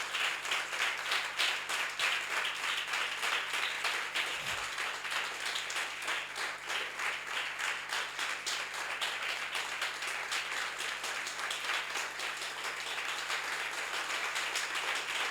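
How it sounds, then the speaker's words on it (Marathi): A church congregation at a Communion Sunday service in Pune claps loudly and continuously, a dense and rhythmic patter of many hands that goes on without a break. "एकदा जोरात देवासाठी टाळ्या वाजवा"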